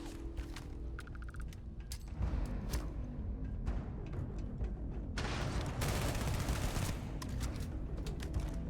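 A Beowulf rifle firing in the video game Starfield, with rapid bursts of sharp shots crackling in quick succession, a heavier stretch of sustained fire in the middle, loud and without talk.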